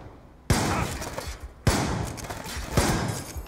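Three heavy shotgun slug shots in Black Ops 2 fire at roughly one-second intervals, each a loud, sharp boom that rolls off into a long echoing tail.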